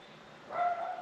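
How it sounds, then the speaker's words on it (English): A single short bark from a dog close by, faint and brief against a quiet room. "My dog's barking."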